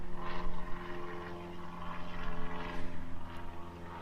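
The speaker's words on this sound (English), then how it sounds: "Oh, we've got a plane flying over." Propeller airplane passing overhead during a Harley motorcycle oil change outdoors, a steady droning engine hum at moderate distance, faint and continuous.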